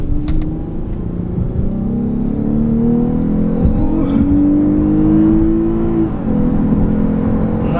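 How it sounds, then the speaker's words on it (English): A 3.5-liter V6 engine in a 2017 Lexus GS350 RWD revs steadily, its pitch climbing and holding high before dropping back, loud and close with no talking. "Nice and responsive engine here."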